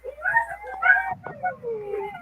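Puppies and dogs whimper at a gate, with a few high, thin whines rising and falling in quick succession, close by and fairly quiet.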